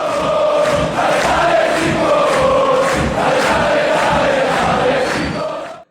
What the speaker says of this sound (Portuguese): então solta a vinheta